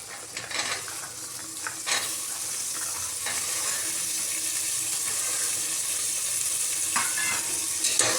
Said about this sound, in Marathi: छान परतून घ्या 2 मिनिटं।